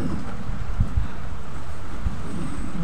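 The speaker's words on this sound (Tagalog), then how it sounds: "Malakas talaga ng hangin." Strong wind buffets the microphone in a steady low roar with occasional thumping gusts. No voices are heard.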